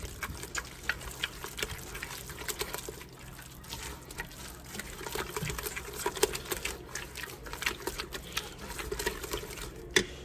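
Egg being stirred into fruitcake batter in a bowl: a steady run of soft, sticky clicks and wet scrapes close by, irregular in rhythm and fairly quiet, with no talking.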